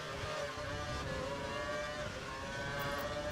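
A Formula-style race car in a racing video game at the Abu Dhabi circuit, its engine droning loudly and continuously with shifting tonal whine as the revs rise and fall through gear changes.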